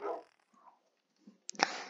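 A small dog in Minecraft gives short, soft yips and whines, a few brief bursts separated by silence, ending in one louder bark.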